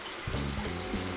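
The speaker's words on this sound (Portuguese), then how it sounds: "Primeiro enchemos o chuveiro com água e deixamos correr." Water runs through a repaired electric shower, a loud continuous hiss and gush of flowing water starting abruptly and holding steady, close by.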